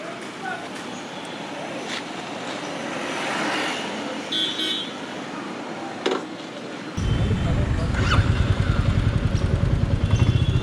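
Royal Enfield Meteor 350 Supernova cruiser motorcycle on a test ride, its steady exhaust drone loud and close amid road and wind noise, growing deeper and more pulsing in the latter part.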